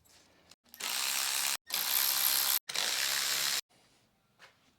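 A hand ratchet loosens the pinch bolts on a motorcycle fork during a WP air fork conversion, with three long, loud, close clicking runs separated by brief pauses.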